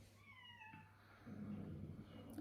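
A male cat meows at a door, a few drawn-out, wavering meows heard softly at a distance, followed by low rustling and background murmur.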